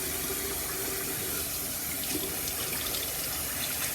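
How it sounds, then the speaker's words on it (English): A tap runs steadily for a cold water rinse, a continuous close, even splashing rush with no talking. "a cold water rinse kind of close the pores down"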